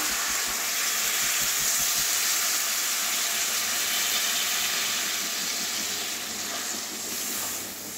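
Water poured into a hot pan of potato and pointed gourd curry with jackfruit seeds sets off a loud, continuous hiss and sizzle of steam that fades slightly toward the end.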